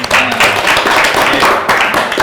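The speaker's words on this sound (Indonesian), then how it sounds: "Tepuk tangan dulu dong." Applause and clapping from a crowd at an Indonesian football-management e-sports community gathering, loud and dense, holding steady for a couple of seconds.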